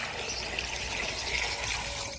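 Water pours steadily into a pot to boil freshly washed sweet potatoes, giving a continuous close splashing and gushing.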